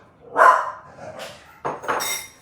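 A dog barks a few times nearby, with short gaps between barks and a faint clatter in the background.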